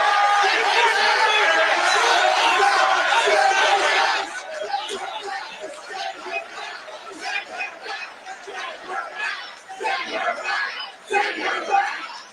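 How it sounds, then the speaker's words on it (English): A Trump rally crowd roars and cheers loudly for about four seconds as a dense wall of voices. It then drops back to softer crowd noise while someone speaks over it. "as you can hear, ladies and gentlemen, the crowd went berserk"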